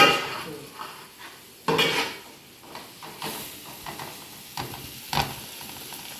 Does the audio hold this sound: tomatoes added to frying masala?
yes